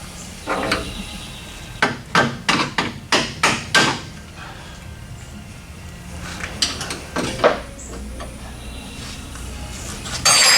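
A burst of rapid metallic hammer strikes on a car's front suspension parts, about eight sharp blows in quick succession, then scattered clanks and a few more knocks in a workshop setting.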